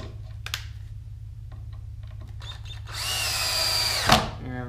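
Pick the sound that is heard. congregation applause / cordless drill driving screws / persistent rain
cordless drill driving screws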